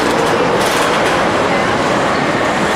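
El Loco roller coaster at the Adventuredome running, a loud, dense roar of wheels and rushing air close by, steady and unbroken, with faint voices mixed into the din.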